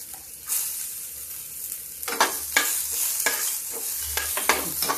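Onion, garlic, ginger and green chili frying in a pan, a steady close sizzle that swells after the first couple of seconds, with repeated scraping stirs breaking through.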